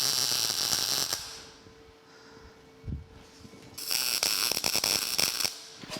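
Tack welds on a bracket for a ZT Fab welding cart: two loud bursts of crackling arc, each about a second long, are separated by a quiet stretch that holds one brief low thump.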